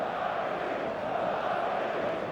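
A stadium crowd in the eFootball video game fills the air as a continuous, even roar of massed voices with no distinct breaks.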